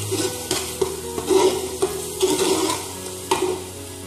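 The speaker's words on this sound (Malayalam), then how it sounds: "ഇതിലേക്ക് നമ്മൾ അരച്ച് വെച്ചിട്ടുള്ള തക്കാളിൻ്റെ പ്യൂരി അതും കൂടെ ഇട്ട് കൊടുക്കുക. നന്നായിട്ട് ഇളക്കുക." Tomato paste and puree being stirred in a frying pan for Arabian chicken madhooth, with soft repeated scrapes of the spoon over a constant low sizzle, close up with no talking.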